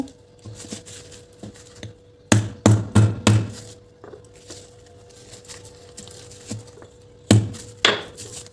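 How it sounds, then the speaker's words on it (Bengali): A block of date palm jaggery being broken in a kitchen, sharp hard knocks in a quick cluster of four, then quieter taps and two more strikes near the end, close and loud. "একটা খেজুরের পাটালি গুড় এই গুড়টাকে প্রথমে আমরা ভেঙে নেব"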